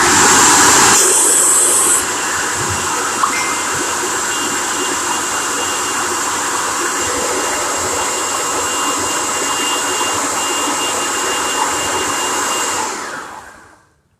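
A food processor blends cashews for raw vegan zest balls. The motor whirs loud and steady for about twelve seconds, then winds down and stops.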